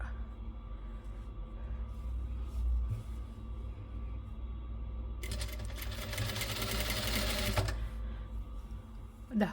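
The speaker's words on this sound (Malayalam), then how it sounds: "ഇനി ഈ സൈഡിലൂടെ തയ്ച്ചെടുക്കുക അതാ ഈ ഒരു നെറ്റിൻ്റെ പോർഷൻ ഇങ്ങനെ ഉള്ളിലേക്ക് മടക്കി വെച്ചിട്ട് ചുറ്റുപുറം തയ്ച്ചെടുക്കുക" A sewing machine stitches around the folded net fabric portion of a kurti, a steady mechanical whir with a louder rapid burst of stitching in the middle, no speech.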